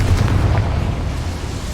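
A heavy, rumbling blast from the Confringo fire spell in the video game Hogwarts Legacy, a deep booming burst that rolls on without a sharp end.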